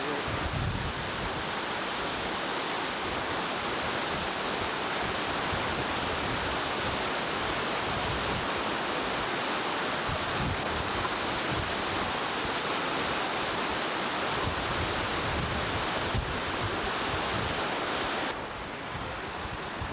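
Water rushing steadily past a canal diversion fish screen below the gates, a dense, constant broadband roar, close and unbroken for the whole stretch.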